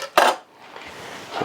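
Cut chunks of meat for smoked chili dropped back into a pan, a sharp metallic clatter followed by a faint rustle, then another soft knock at the end.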